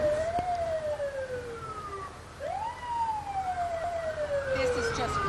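Wailing emergency vehicle sirens rise and fall in long sweeping tones during a crowded grand parade, loud and fairly close, with horns and crowd noise around them.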